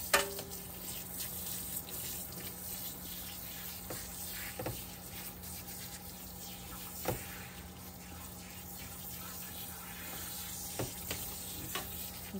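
Running water rinsing grooming product out of a pet's coat, a steady faint hiss of spray with occasional soft splashes and knocks, no talk.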